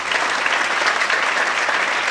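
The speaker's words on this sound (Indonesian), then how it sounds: "Tepuk tangannya balas saudaraku." A church congregation claps in steady, dense applause that fills the space loudly and evenly from start to finish, with no voices rising above it.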